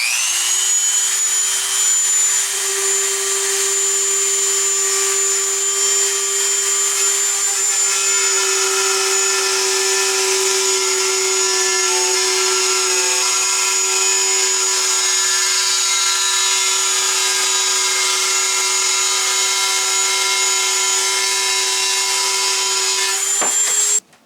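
A Dremel 3000 rotary tool set on fast cuts through sheetrock with a loud, steady high-pitched whine that runs unbroken for over twenty seconds. It stops abruptly at the end.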